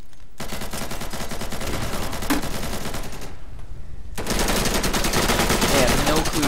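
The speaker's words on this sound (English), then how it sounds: "Sniper fire coming from the window." Sniper gunfire in the video game Insurgency rattles out as dense, loud volleys of shots, a sustained barrage that briefly drops away before resuming even louder.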